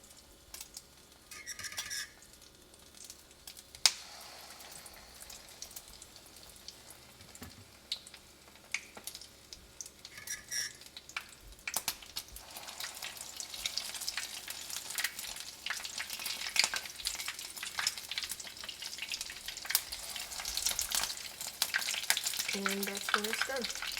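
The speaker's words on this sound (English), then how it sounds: "And that's what you're looking is for little sizzle." Stuffed vegetables frying in hot oil, a steady soft sizzle with occasional clinks of a utensil against the pan, growing louder and busier toward the end.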